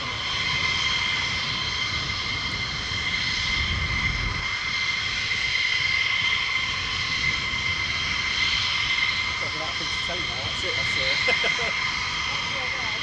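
Military jet aircraft landing at RAF Lakenheath, a loud steady roar of engine noise with a broad hissing whine sustained throughout, close and continuous, with people talking faintly underneath.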